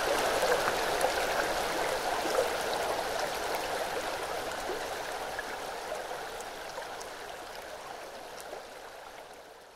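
Waterfall in the Peak District, a steady rushing and splashing flow heard close and continuous, fading slightly toward the end, with no voices.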